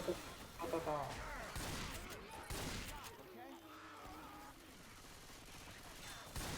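Rapid bursts of gunfire from the video game Left 4 Dead 2, loud and near, in quick repeated volleys amid chaotic game noise, with excited voices talking over the shooting.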